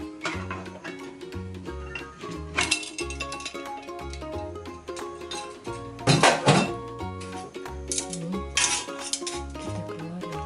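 Metal clanks and clinks as a pressure cooker holding soft-boned fried chicken is opened and the pot is handled, a series of irregular knocks and scrapes over kitchen background music, with no talking.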